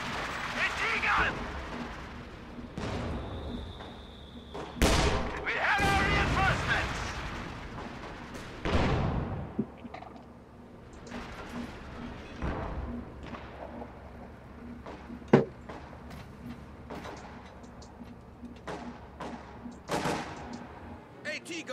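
Battlefield gunfire and artillery blasts boom and crack in a War Simulator game, with loud irregular explosions and scattered sharp shots, some near and some distant, while voices call out over the combat.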